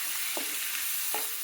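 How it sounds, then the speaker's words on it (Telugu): Spices for a bell pepper chutney sizzle and fry steadily in a pan, with two soft scrapes of a stirring spoon over the continuous hiss, no voices. "అన్నీ వేసి బాగా వేగనివ్వాలండి."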